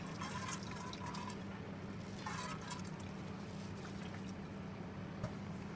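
Water from cooked cauliflower, squeezed by hand, gives a faint, soft trickle and a few drips, quiet and steady under a low background hum, with no talking.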